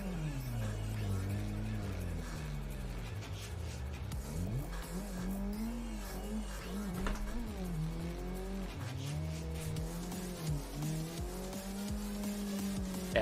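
Drift car on a track on cold tires, the engine revving up and down in sweeping pitch swings while the tires squeal and skid through long slides, loud and close throughout.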